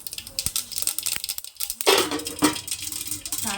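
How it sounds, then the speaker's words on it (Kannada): White mustard seeds spluttering in about two spoons of hot oil in a pan covered with a plate, irregular crackling pops and sizzles in quick bursts, close and moderately loud, with no talking. "ಸಾಸಿವೆ ಸಿಡಿತೆ ಅಂದ್ಬಿಟ್ಟು ಪ್ಲೇಟ್ ಮುಚ್ಚಿದ್ದೀನಿ."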